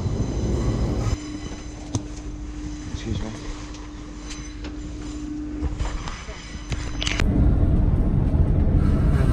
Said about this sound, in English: It's the longest fucking train.